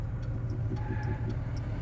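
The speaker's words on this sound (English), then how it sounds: "The traffic, it's not too bad." Steady car traffic on a road on Thanksgiving Day, a continuous low rumble of vehicles rolling past at moderate distance with faint ticking and a brief higher tone, no talk.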